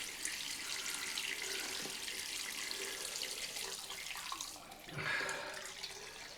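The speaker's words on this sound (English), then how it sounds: "Get some hot water going." Hot water pours steadily from a bathroom tap into a shaving bowl, a continuous close splashing rush that swells briefly near the end.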